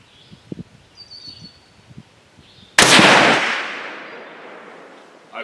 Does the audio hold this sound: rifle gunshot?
yes